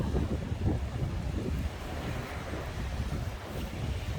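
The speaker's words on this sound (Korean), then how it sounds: "바다가 예, 파도도 높아졌고요. 바람도 터져버렸습니다." Strong wind buffets the microphone over high sea waves breaking on a rocky East Sea coast at Oho-ri fishing spot, a steady, loud low rumble with no voices.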